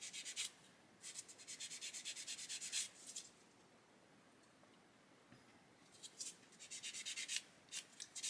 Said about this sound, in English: So I'll just go around and get all those sanded out